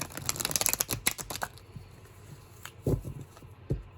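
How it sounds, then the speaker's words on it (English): Stiff new tarot cards from an Antique Anatomy deck riffle in a quick crisp flurry of taps for about a second and a half, then a quiet pause and two soft bumps as the deck settles. "Let's see how this shuffles."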